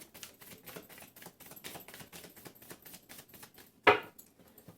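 Tarot cards shuffled by hand, a quick run of soft, even papery riffles and taps ending in one sharper snap of the deck, close and fairly quiet, with no voice over it.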